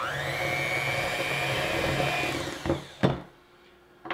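An electric mixer whirs steadily through red velvet cake batter with buttermilk mixture and flour, a close continuous motor drone that winds down and stops, followed by a couple of knocks against the bowl.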